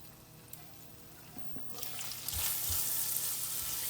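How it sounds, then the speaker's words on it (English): Taco filling sizzling in a pan on a home stove, quiet at first with a few scrapes of a stirring spoon, then swelling into a louder steady frying hiss. "And I like to keep stirring it"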